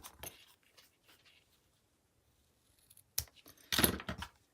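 Scissors snip the end of a ribbon: a few faint early clicks, a quiet gap, then sharp metallic snips and rustling handling close by, with no talk.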